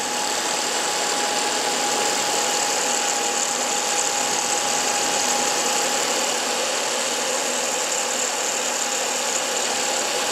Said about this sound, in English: So actually we've got, you can hear the hard drive